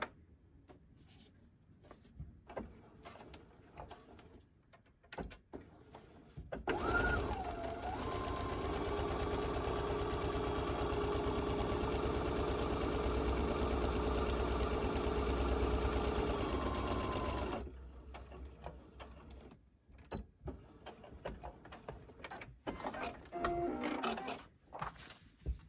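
A sewing machine stitches along a line on a paper-pieced quilt block, running steadily for about ten seconds, loud and close, with quieter handling noises before and after.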